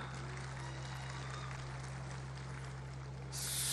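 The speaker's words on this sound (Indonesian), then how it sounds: "Tepuk tangan." Audience applause at the Golkar party's 59th anniversary event, a steady wash of clapping from a large crowd that swells louder near the end, with a constant low hum underneath.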